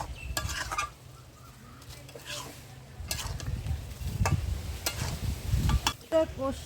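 Spice masala frying in oil for a chicken curry crackles softly while a spoon scrapes and clinks against the pot, and stirring noises come and go in uneven bursts.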